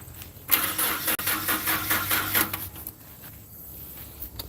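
A cold Dodge D50 truck engine with a one-barrel Thermoquad carburetor, run off a lawn tractor battery, cranks steadily for about two seconds with a rapid rhythmic churn. Then it fades into quieter rumbling, loud and close.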